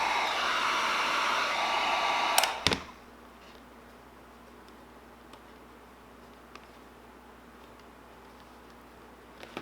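A heat gun warms a decal wrap on a Traxxas Maxx 4S RC truck body, a loud steady blowing hiss that cuts off abruptly with a click after about two and a half seconds, leaving quiet room tone.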